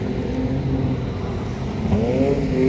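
A drift car on a wet track at Biķernieki circuit, its engine droning and revving steadily with a rising pitch near the end, moderately close and with no talk.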